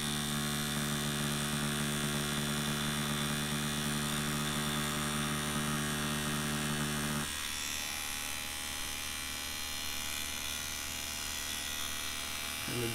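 A Dragonhawk Extreme v2 direct drive tattoo machine running at 5 millimeter stroke and 5.5 volts, giving a steady close electric buzz with a tonal hum that shifts to a slightly different drone partway through, without speech.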